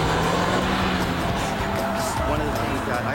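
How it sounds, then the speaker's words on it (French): A Gran Turismo 4 Prologue car driven at around 200 km/h, heard as a loud, steady engine and road roar that stays continuous for the whole stretch, with a voice talking over it. "C'est incroyable de conduire une voiture à 200 km/h."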